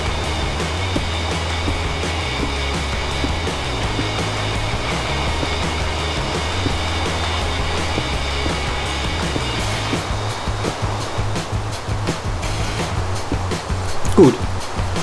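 Flowing water in Minecraft runs as a steady broadband wash throughout, a constant rushing stream with a low hum beneath and no voice on top.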